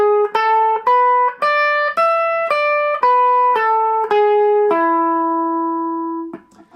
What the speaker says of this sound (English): Next up we have the dominant pentatonic,